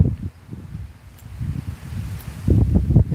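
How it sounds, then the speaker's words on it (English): Outdoor wind buffets the microphone in low, irregular rumbling gusts that grow stronger toward the end. No voice is heard. "It's so windy over here."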